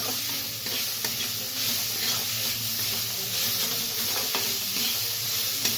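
Cauliflower paratha filling with salt and sugar is stirred in a frying pan, a steady close sizzle and hiss running throughout with soft scraping strokes of the spoon.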